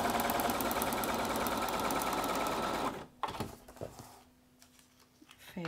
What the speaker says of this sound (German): Und wieder vernähen.